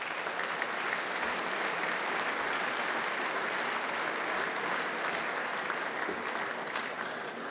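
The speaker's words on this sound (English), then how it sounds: "Give them a big clap" A presentation-night audience of junior players and families claps in dense, sustained applause that holds steady from start to finish.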